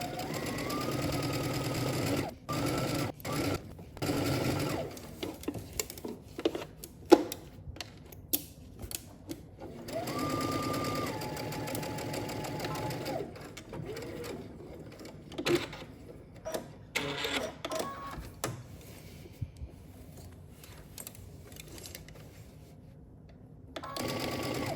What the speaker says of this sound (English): we can go ahead and stitch around the pocket.